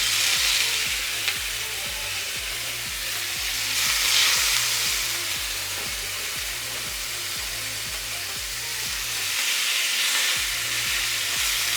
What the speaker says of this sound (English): So here we have added a layer of oil to our pan, and we're going to add our steaks,